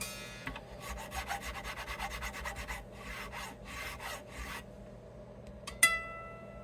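A fret slot on a Gibson Slash Les Paul guitar is cleaned with a tool, giving quiet, rapid rhythmic rasping strokes in several bursts, then a brief sharp click near the end.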